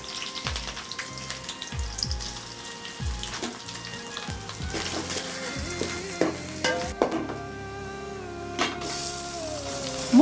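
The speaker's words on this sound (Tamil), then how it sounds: "மூணு மணி நேரம் ஊற வச்ச ஜவ்வரிசியை வந்துட்டு இப்போ அந்த தாளிப்பில் போட்டிருக்கிறாங்க" Soaked sago pearls dropped into a hot coconut tempering with cashews, green chilli and grated coconut, sizzling and frying loudly while being stirred, with repeated scraping clatters of a spoon against the pan.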